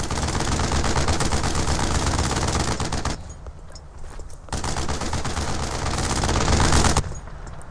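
Sustained automatic gunfire from the WWII shooter Brothers in Arms: Earned in Blood, heard as a loud, dense rattle of rapid shots that briefly drops to scattered fire midway, then resumes before cutting off.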